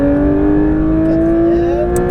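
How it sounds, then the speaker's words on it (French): Porsche 992 GT3 RS accelerating on a track, a loud, steady high-pitched engine note rising slightly in pitch as it pulls, heard close from inside the car. "on réaccélère"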